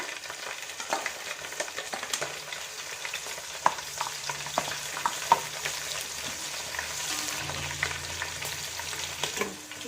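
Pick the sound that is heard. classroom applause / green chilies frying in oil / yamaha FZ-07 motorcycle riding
green chilies frying in oil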